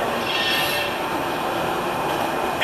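A speeding bullet train roars past in an anime scene, a dense, steady rush of rail noise with a high whine and faint wheel squeal, loud and continuous with no voices.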